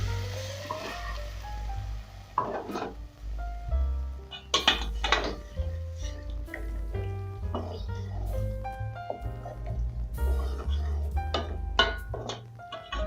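Beef goes into a pot for potato beef stew, with clinks and clatter of a metal pot and utensils under a speaking voice, and some soft thunks of meat landing.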